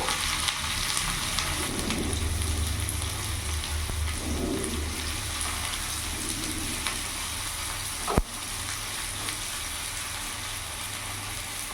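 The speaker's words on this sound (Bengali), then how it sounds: "তেল গরম হয়ে গেছে, ওই তেলের মধ্যে এখানে আমি পেঁয়াজ কুচনো দিয়ে দেবো।" Chopped onion sizzles in hot refined oil in a pan, a steady, hissing fry throughout, with a short sharp knock near the end and no talking.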